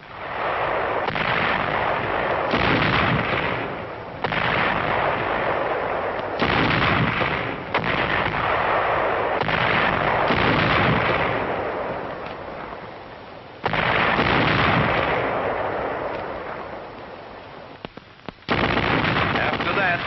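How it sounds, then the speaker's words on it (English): Heavy artillery trading fire at night in a high-trajectory duel, rendered as dense, continuous rumbling blasts and booms that swell and recede in waves, loud and sustained with brief dips. "The nights were often very warm for February, when a high-trajectory artillery duel was on."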